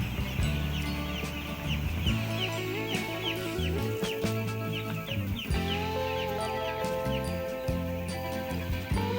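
Chickens in a warm heated box cluck and chatter continuously up close, several birds overlapping in busy, uneven calls.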